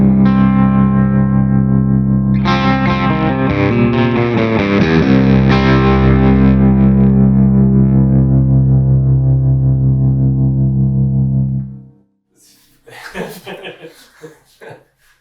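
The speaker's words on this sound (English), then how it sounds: "now I've discovered all baritone guitars should have some sort of Gretsch pickup because they sound like this" Baritone guitar tuned to drop D through Gretsch-style Bertron pickups rings out loud with distorted, effects-laden tone, strummed chords and riffing sustaining for about twelve seconds before cutting off, followed by a short burst of talk.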